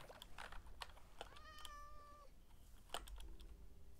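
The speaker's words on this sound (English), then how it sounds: "Found a cat again." A cat in the video game Minecraft gives a single drawn-out meow with a rising, wavering tone, surrounded by fast clicks of computer keyboard typing.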